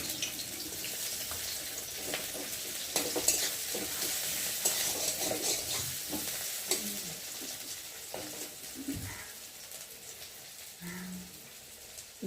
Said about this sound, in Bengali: তেলটা গরম হয়ে গেছে, এখন আমি ফোড়নে দিয়ে দেবো পেঁয়াজ ফোড়ন।